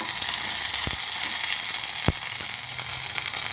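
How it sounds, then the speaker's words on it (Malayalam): Crushed ginger and garlic fry in hot oil with a loud, even sizzle, broken by a couple of sharp knocks from a spoon stirring against the pan. "ഇതൊന്ന് ഇളക്കി കൊടുക്കാം"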